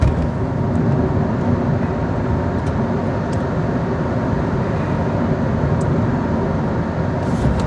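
A Honda K20 VTEC car on the Nordschleife gives a loud, steady engine and road roar from inside the cabin. The gearbox is notchy, and the noise continues with no clear break for the gear changes.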